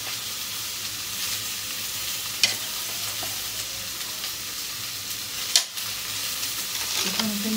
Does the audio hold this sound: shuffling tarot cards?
no